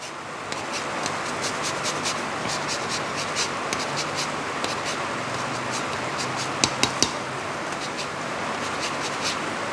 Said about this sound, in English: Let's zest the skin of this lemon